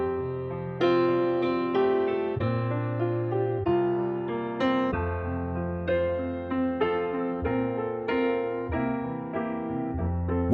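An app-generated backing track plays steadily with a deep bass line, chordal accompaniment and regular rhythmic accents, clean and close without any voice over it.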